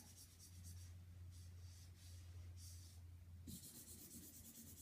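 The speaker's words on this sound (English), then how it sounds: "You will be using a dark pencil" A dark pencil scratches across paper in a quiet room. Short, faint back-and-forth strokes come in rhythmic bursts, then turn into a more continuous scribbling near the end.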